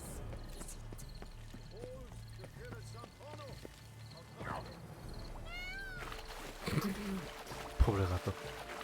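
Cat meows in The Witcher 3 game, a few short rising-falling mews in a row amid ambient game sound, with footsteps and louder effects following near the end.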